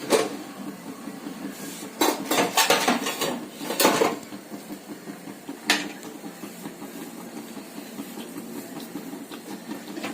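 A metal lid clanks onto a cooking pan of kulith pithi, a horse gram dish, giving a cluster of sharp rattling knocks early on and one more clink later, then a quiet kitchen hum.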